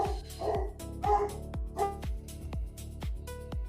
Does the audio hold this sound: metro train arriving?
no